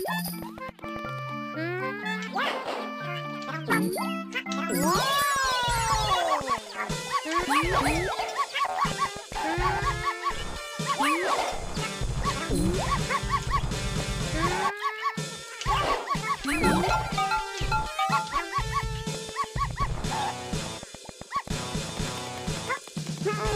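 Repeated yipping dog barks from the Yoshi's Story video game ring out close and loud, mixed with busy game music and sound effects throughout.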